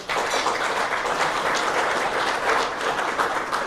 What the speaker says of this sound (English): Would you please join me in acknowledging and making Henry welcome